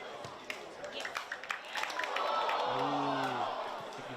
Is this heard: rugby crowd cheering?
yes